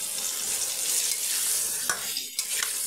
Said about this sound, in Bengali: সয়াবিনগুলো ওতে দিয়ে ভেজে নেব।